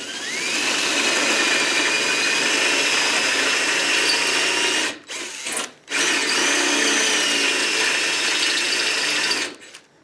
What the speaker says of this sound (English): I can start drilling on this side and then back drill from the other side